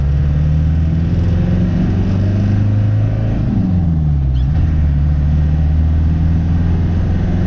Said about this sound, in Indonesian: Wow, suara turbonya masuk kan?